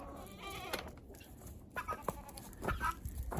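Goats bleat on a small homestead farm in short, scattered calls, fairly close and moderately loud, with farmyard background noise between them and no talking.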